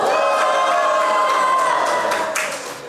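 A church congregation cheering and shouting in a big burst of voices with claps and whoops, loud and sustained, then fading toward the end.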